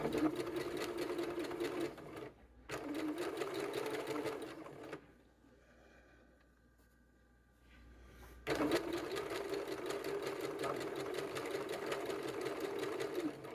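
A sewing machine stitches fabric for a tote bag in fast, even bursts with a pause in the middle, the needle chattering close and loud before resuming.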